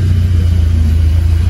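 Car engine idling, a loud, close, steady low rumble with an even pulse that holds for the whole short stretch.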